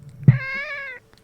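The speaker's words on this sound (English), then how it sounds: "She decided she needed to meow directly into the microphone." A cat meows straight into a close microphone, one loud, drawn-out, tonal meow lasting under a second, with nothing else around it.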